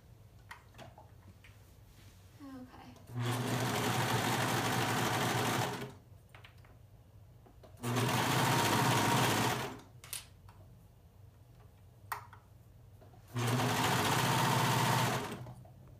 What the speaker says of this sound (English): Run my fingers along the edge that's about to go under the knife and the serger